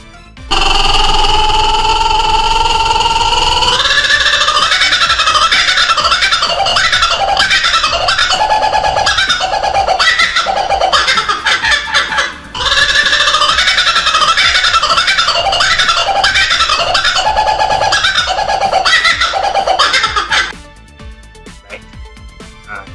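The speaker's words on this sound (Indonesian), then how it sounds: "ketika burung kookaburra itu bersuara" A kookaburra gives its loud laughing call, rising cackling hoots repeating in rapid rhythmic bursts for about twenty seconds with a brief break midway, close and dominant, then fading.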